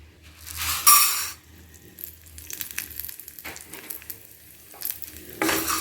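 Moong dal roasting in a little ghee gives a steady low sizzle, with louder crackling bursts and light scraping as it is stirred in the pan; no talking.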